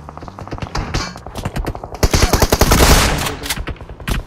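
Dense, rapid gunfire from the mobile battle royale game BGMI, loud and close, with quick automatic bursts rattling almost nonstop and swelling into a heavy sustained volley midway through.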